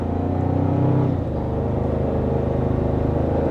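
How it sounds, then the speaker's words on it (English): A 2024 Toyota Tacoma pulling away under throttle, its engine holding a steady low drone with a brief rise in pitch before settling into an even cruise, close and continuous with no talk. "Doesn't take that much acceleration push to get the car going."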